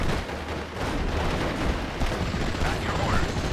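Artillery guns fire during Steel Division: Normandy 44 gameplay, a dense, continuous roar of booming blasts and rumble with no clear gaps between them.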